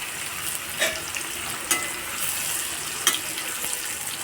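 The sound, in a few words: rani fish frying in a pan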